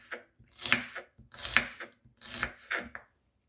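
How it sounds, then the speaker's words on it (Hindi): A knife chops onions on a board in four distinct close strikes, each a crisp crunchy cut at an even, unhurried rhythm. "प्याज काट रही हूँ।"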